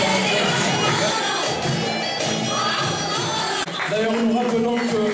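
Crowd at a charity gala evening against cancer cheering and shouting loudly throughout, a dense continuous roar of voices with whoops and calls, no distinct pauses.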